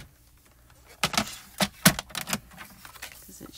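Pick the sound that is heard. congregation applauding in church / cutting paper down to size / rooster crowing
cutting paper down to size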